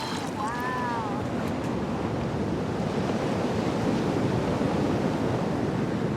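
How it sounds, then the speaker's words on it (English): Ocean surf in Fiji, swells that crossed the ocean from a storm off Antarctica, roaring steadily and broadly throughout with wind noise on the microphone and a brief whistle-like sound near the start. "These waves have traveled for thousands of miles from a storm here off Antarctica, all across the ocean"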